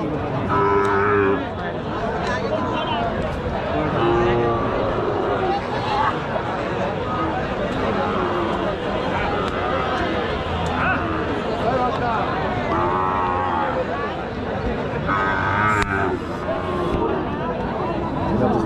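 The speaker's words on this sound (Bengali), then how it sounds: "শাহিওয়াল বাছুর দেখেন এখানে সব" Sahiwal calves moo repeatedly, some close and some farther off, amid a busy crowd of people talking at the noisy Panchbibi cattle market in Joypurhat, Bangladesh.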